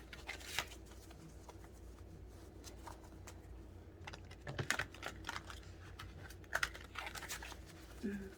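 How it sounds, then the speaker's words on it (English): Soft, quick riffling and tapping of tarot cards being shuffled, with a few louder flicks over a low background hum. "Give it a little quick shuffle."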